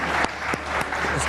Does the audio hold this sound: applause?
yes